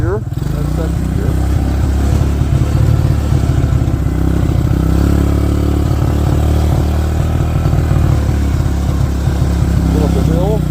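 A Suzuki Quadrunner 4WD ATV engine drones steadily in low-range gears, a loud, close mid-pitched motor with clatter running throughout, the note shifting slightly as it changes from first to second gear.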